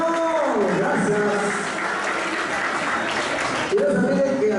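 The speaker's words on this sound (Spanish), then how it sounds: "Gracias por ese aplauso." An audience claps for a women's convite dress rehearsal performance in Chicamán, Quiché, steady applause after music, with a voice speaking over it near the start and again toward the end.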